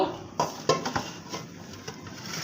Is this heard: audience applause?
no